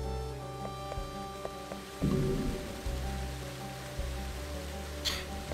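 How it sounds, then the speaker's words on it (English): A rainstorm in Octopath Traveler hisses steadily beneath sustained, soft game music, with a brief louder gust of rain midway and a faint high swish near the end. "There's more storming."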